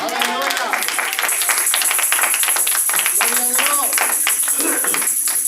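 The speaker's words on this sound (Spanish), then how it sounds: "Alguien dé un aplauso fuerte al Señor" A church congregation claps loudly for the Lord during a Spanish-language service, a dense rhythmic clapping with a high sustained tone above it and voices calling out over the sound.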